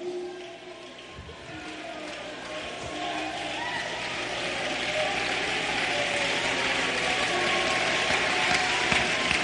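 A church congregation applauds during a sermon, a dense crackle of clapping hands that swells and grows louder over several seconds, with a voice speaking briefly under it at the start.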